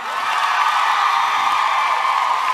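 An audience claps and cheers after a motivational talk, a dense continuous wash of applause with whoops, loud and sustained throughout.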